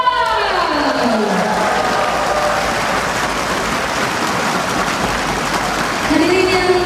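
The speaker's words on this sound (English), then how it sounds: "please put your hands together and give a round of applause" Crowd applause at a tennis match, Christopher Rungkat against Kumkhum Ratiwatana, Indonesia versus Thailand, a steady wash of clapping that lasts the whole stretch, with an announcer's voice at the start and end.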